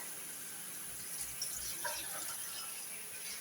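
A kitchen tap pours water over chicken pieces to soak them before cooking adobo, a soft, steady trickling and splashing that swells briefly in the middle, faint and close.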